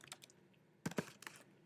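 A few quiet clicks of typing on a computer keyboard, a short burst of keystrokes heard close up and faint in a quiet room.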